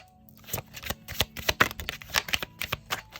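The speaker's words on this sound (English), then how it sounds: "keep thinking about them as I'm shuffling the cards" Tarot cards being shuffled by hand, a rapid series of crisp riffling and slapping bursts in an irregular rhythm, close and clear with no talking.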